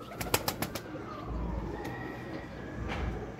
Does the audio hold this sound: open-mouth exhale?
no